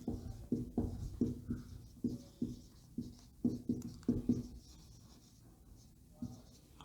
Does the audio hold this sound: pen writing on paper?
yes